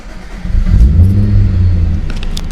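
A second-generation Acura Legend's engine starts up, a low rumble swelling after a brief quiet moment and settling into a steady, close idle.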